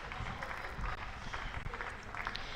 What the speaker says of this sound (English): That was the applause.